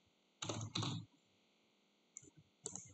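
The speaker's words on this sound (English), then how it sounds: "so I'll type that into remarks." A computer keyboard typing an answer: two quick clusters of clicks early on, then a pause, then a few more scattered key taps, close and crisp in an otherwise quiet room.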